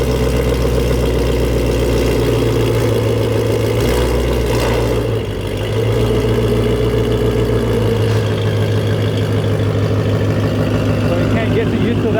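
A straight-piped 2020 Shelby GT500 roars on a dyno, a loud, sustained, raspy engine drone with a brief dip midway, and people talk under the noise.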